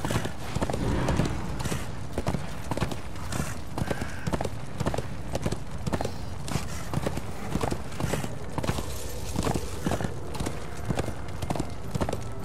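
Horse hooves clip-clop at a steady trotting rhythm in the video game Darksiders II, continuous and fairly close across the whole stretch, with faint game ambience beneath and no talk.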